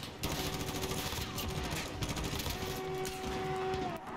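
Rapid automatic gunfire in the Call of Duty Modern Warfare Special Ops game, loud, dense and continuous, with vehicle engine noise and a steady tone running beneath it.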